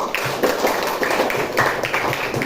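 Students in a classroom applauding together, a dense, steady burst of many hands clapping for a couple of seconds at close range, with no talk over it.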